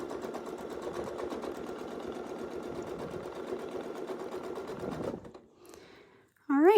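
A sewing machine stitches a quilt in a steady, fast continuous whir for about five seconds, then stops, followed by a short quiet pause and a brief burst of voice at the end.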